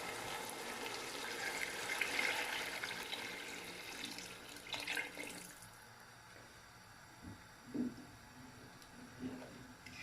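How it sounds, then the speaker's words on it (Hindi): Water poured from a glass into a pot of masala for aloo matar pulao, a steady splashing pour for about five seconds that then tapers into quieter trickles and a few small clinks. "मैं 12 गिलास जो है वो पानी के डाल रहा हूँ।"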